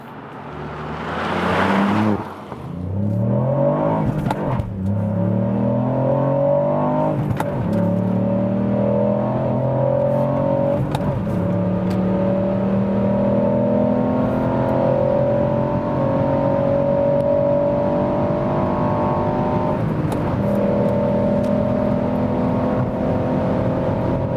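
A 2021 Ford Puma ST, a small 200 hp sports car, accelerates hard toward 200 km/h, engine whine climbing steadily through several gear changes, loud and sustained throughout.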